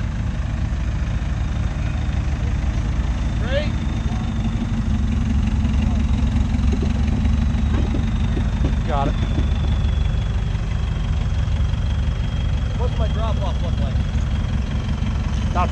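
An idling vehicle engine rumbles steadily while driving up onto an off-road teeter totter, a constant low drone throughout as people talk and call out directions over it.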